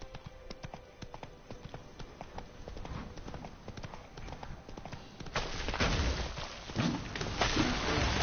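Roach's hooves clip-clop steadily in The Witcher 3 Blood and Wine, a quick rhythmic patter of hoofbeats that grows louder and busier toward the end as ambient game sound rises.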